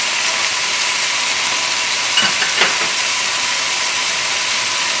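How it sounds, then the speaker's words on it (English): Steady loud sizzling and frying as garlic and ginger paste hits a hot pan with cooked chicken for a basil chili chicken curry, with a couple of faint stirring scrapes midway. "I'm going to add garlic and ginger paste."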